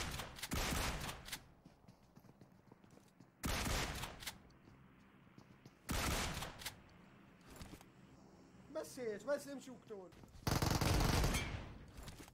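Loud bursts of shotgun fire from a double-barrel shotgun in a first-person shooter, four heavy blasts spaced a couple of seconds apart with quieter game sounds and brief voice-like chatter between them.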